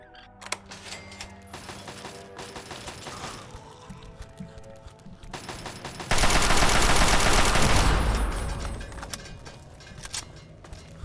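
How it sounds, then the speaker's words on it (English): Chinese assault rifle fire in Fallout 3, with quick rattling bursts and clicky mechanical handling up front, then a loud sustained volley from about six to eight seconds that fades into lighter clatter, with no talk. "I love the Chinese assault rifle"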